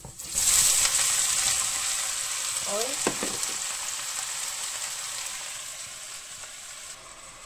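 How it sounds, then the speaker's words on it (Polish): Chopped onion sizzles steadily in hot frying oil, a loud bright hiss that eases slightly over time, with a short voiced exclamation partway through. "Już mi skwierczy, także przerzucam do oleju."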